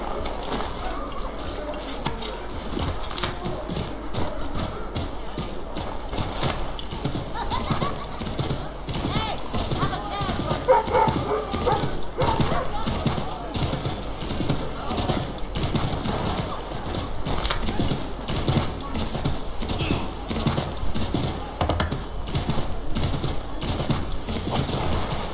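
A horse gallops in the video game Assassin's Creed III, steady rapid hoofbeats drumming throughout at a constant loud level, with occasional voices over it.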